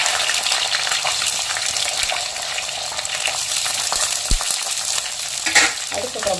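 Small shallots fry in hot oil with fenugreek and curry leaves as the base for a sardine curry: a constant crackling sizzle with occasional stirring scrapes and a brief bubbling spurt; no speech.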